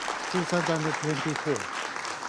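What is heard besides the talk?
applause at UN Security Council vote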